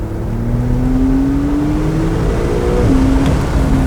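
A 2019 Porsche 911 Targa 4 GTS engine revs loudly after a PDK downshift, pitch climbing steadily before another quick gear change, heard from inside the car.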